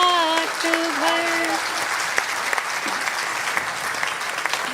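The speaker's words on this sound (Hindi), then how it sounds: "जिस तरीके से आप ताली बजा रहे थे" Audience at a Hindi poetry recital breaking into steady, dense applause, starting as a sung or recited voice trails off, with occasional louder individual claps standing out.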